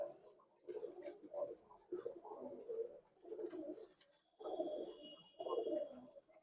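Pigeons of the Pulsar line, blue-eyed birds of the Dasu line among them, coo repeatedly in soft, low rolling phrases that come in several bursts with brief pauses between them. A faint high tone runs briefly in the background.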